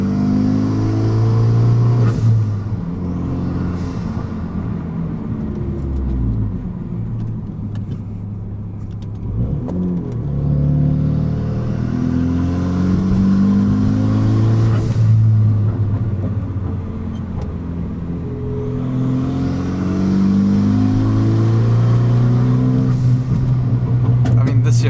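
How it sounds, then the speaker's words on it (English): A Renault Megane RS RB8 project car with Brembo brakes and racing pads rumbles loudly while carving canyon roads, engine rising and falling through gears, with occasional sharp exhaust cracks under someone talking. "Car's popping and cracking from behind."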